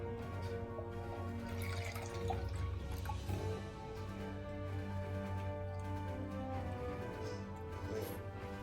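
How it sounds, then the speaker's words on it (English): Coconut milk being poured over set jelly, a faint continuous trickle and light dripping of liquid, steady and quiet throughout with no talking. "Now we pour the coconut milk."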